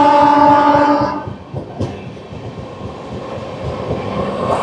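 Passing train on the Bandel–Burdwan main line, a loud steady rumble with a brief horn-like tone at the start, giving way to rhythmic wheel clatter heard from a moving Howrah–New Jalpaiguri Shatabdi Express.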